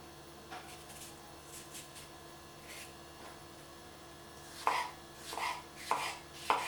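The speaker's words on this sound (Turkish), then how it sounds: "Küp küp doğrayacağım." A knife dices cucumber on a cutting board: a few soft, scattered taps at first, then sharper, louder chops in quick succession toward the end.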